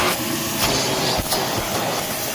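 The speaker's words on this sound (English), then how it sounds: "All right, start your vacuum and start sucking." A vacuum cleaner works over third-generation Camaro seats, giving a loud, steady suction hiss with short bursts as the nozzle moves across the upholstery.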